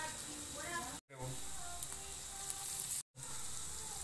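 Onions sizzle in hot oil with cinnamon and dried chili for a snail and potato curry, giving a soft, steady hiss, with faint talking underneath and two brief dropouts to silence.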